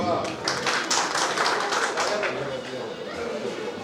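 An audience in a crowded hall at a Hindi-language public event breaks into brisk, uneven clapping, with sharp close claps over a busy bed of murmuring voices.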